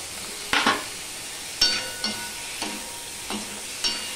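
Tomatoes fry in a pan with turmeric for a spicy tomato chutney, with a steady soft sizzle broken by several sharp clinks of a utensil stirring against the pan, close by.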